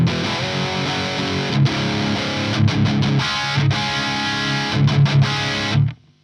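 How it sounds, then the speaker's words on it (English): An electric guitar through the blue channel of an EVH 5150 amp plays dense, heavily distorted high-gain riffs, loud and continuous with brief palm-muted stops, before the sound drops away near the end. "The blue channel of the EVH sounds like this."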